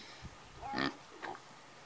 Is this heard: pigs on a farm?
yes